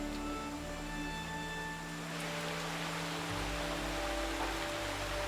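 Steady monsoon rain falling during a daily rainstorm on an island off Singapore, a dense continuous hiss of drops on surfaces that grows fuller midway, with no voices.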